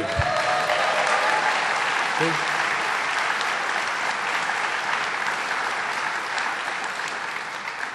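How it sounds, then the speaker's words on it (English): A crowd gives a boisterous round of applause for a speaker at a government announcement event, with loud, dense clapping that holds steady for several seconds and then begins to fade. "we need to give a really boisterous round of applause because he has the money"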